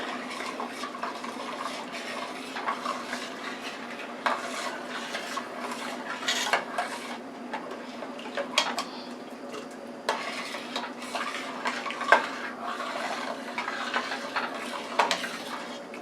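A spoon stirs a sweet and sour fruit glaze simmering in a pot, with steady soft bubbling and intermittent clinks and scrapes against the metal, close and continuous with no talk.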